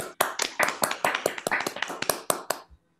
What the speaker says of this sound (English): Let's unmute and give a round of applause